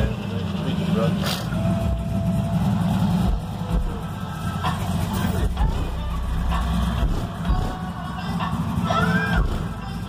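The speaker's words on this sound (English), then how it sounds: "Yeah, that truck sounds good," A truck engine runs inside a loading plant, a steady low rumble held throughout with voices and crowd noise mixed over it.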